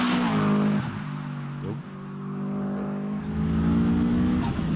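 A Subaru Impreza WRX STI GC8 rally car engine burbles and crackles loudly and close by, its rough exhaust note rising and falling with throttle blips over roughly five seconds, with no talk.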